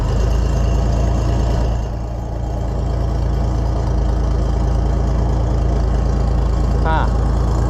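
A car engine idles with the key on, giving a steady low rumble that holds even and unbroken throughout, with no change in pace.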